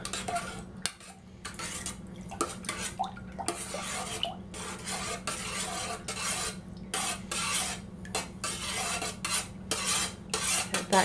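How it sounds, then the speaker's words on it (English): A spoon stirs Polynesian meatball sauce in a pot, knocking and scraping against the sides in irregular bursts over a low steady hum, with faint drips and clinks between strokes. "I'm going to stir all this up."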